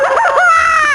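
Recorded chick sound played aloud, coming out as a single loud, harmonic, rising-and-falling call much like a rooster crow, close and clear with no talk over it.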